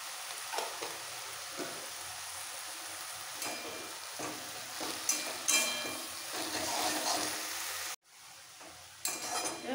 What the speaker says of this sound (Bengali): ভালো করে একটু মিক্স করে নেড়ে নেব।